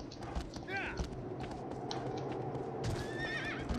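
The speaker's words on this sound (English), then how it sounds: "Stupid horse." A horse in Shadow of the Colossus neighs twice with shrill whinnies, one early and one near the end, while hooves clip-clop steadily underneath.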